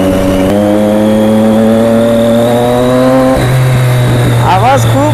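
Motorcycle engine revving without a silencer fitted, a loud raw droning roar held at steady pitch, then dropping lower and rising again with a brief squealing rev near the end.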